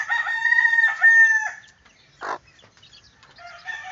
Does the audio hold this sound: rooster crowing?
yes